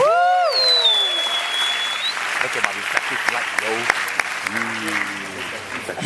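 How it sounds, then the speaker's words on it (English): A youth conference crowd at a church event applauds in a steady, dense wash of clapping, with someone speaking over it at the start and again near the end. "Give yourselves a round of applause right now"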